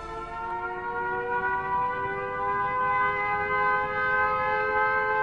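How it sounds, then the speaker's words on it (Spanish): Air-raid sirens sound an alarm in wartime Britain during WWII, a steady, sustained wailing tone with layered harmonics that holds level and loud throughout, with no voices. "Las sirenas dan la alarma antiaérea."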